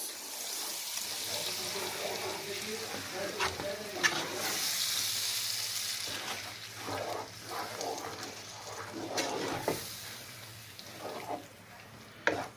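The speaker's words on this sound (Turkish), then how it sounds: "Domatesimizi de ekliyoruz." Tomatoes frying and being stirred in a pan for sausage pasta, a close continuous sizzle with scraping stir strokes that swell and fade over time, no talking.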